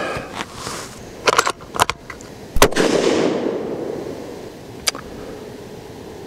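A Ruger American Predator Gen 2 .223 rifle fires outdoors during an accuracy test. One sharp, loud crack is followed by a rolling echo, with a few lighter clicks and knocks before and after it.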